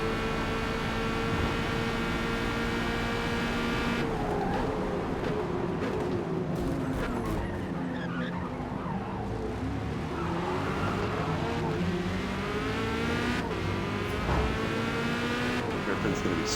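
A Corvette C8.R racing around Hockenheimring in a racing game, its loud engine droning steadily and rising and falling through upshifts and braking, with brief tire squeal, heard close throughout.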